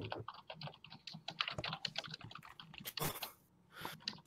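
Fast typing on a computer keyboard during a live game design session, a close, steady patter of key clicks with a few brief pauses and no talk.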